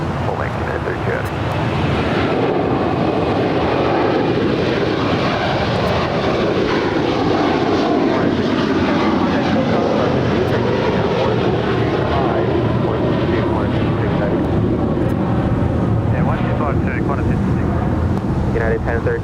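A United heavy airliner roars down the runway at LAX on its takeoff roll, a loud, steady jet engine rumble that swells and shifts in pitch, with wind buffeting the microphone and a voice talking over it.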